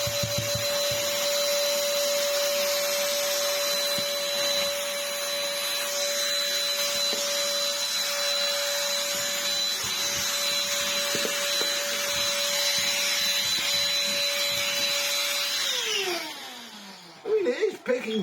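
A modified Black & Decker DustBuster Flexi hand vacuum, overvolted, runs steadily with a high motor whine near a bird cage, then spins down at the end with a few clunks.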